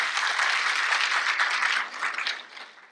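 Audience applause at a school district State of the District event fills the hall, a dense steady wash of clapping that holds strong before thinning and tapering off toward the end.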